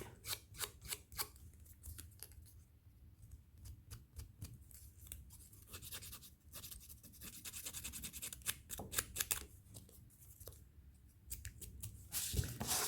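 Scissors snip through paper scraps for a handmade card, a run of quick close crisp cuts in bursts with short pauses between, quiet and without talk.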